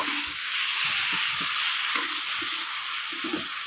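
Steady, loud sizzling of pangas fish curry frying with tomatoes in a pan, a continuous hiss with faint stirring scrapes running throughout, close to the microphone and without talk.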